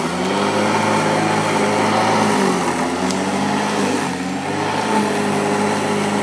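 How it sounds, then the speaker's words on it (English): Ozito 1400W Ecomow electric lawn mower running steadily close by with a continuous motor whine, dipping slightly around mid-clip as if under load, with no speech. "It's been a while to catch up with the electric lawnmower"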